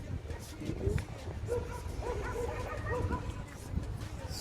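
Several dogs barking and yipping at a city dog park, mid-distance, mixed with outdoor street noise and a little talk in the background.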